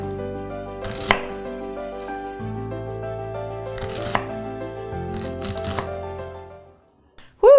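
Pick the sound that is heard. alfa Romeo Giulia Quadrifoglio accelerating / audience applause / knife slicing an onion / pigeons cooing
knife slicing an onion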